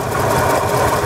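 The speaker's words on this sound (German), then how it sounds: "Läuft sehr schön. Man hört das Mahlgeräusch vom Generator." A cold 1964 Ford Mustang with a 260 cubic inch V8 idles with a steady, even low rumble close by, a faint grinding whir from the generator running underneath throughout.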